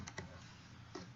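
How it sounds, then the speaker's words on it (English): A few soft clicks of computer keyboard keys: two quick taps, a pause, then another tap. The keystrokes are faint and close over low room hum, with no voices. "So let's just type in SB 8000"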